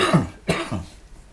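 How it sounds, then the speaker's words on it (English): Two short, harsh coughs close to the microphone, the second followed by a softer throaty rasp. "excuse my cough."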